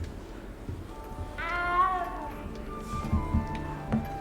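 A small frightened cat in the Hogwarts Legacy video game meows in a long, wavering, rising-and-falling cry, followed by a shorter second meow, over quiet game ambience and footsteps.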